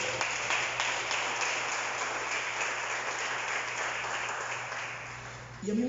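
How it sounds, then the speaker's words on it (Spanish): Church congregation applauding together after a sermon line, a sustained dense wash of many hands clapping at steady loudness for several seconds, easing slightly near the end before a brief louder burst. "Dale un fuerte aplauso al Señor"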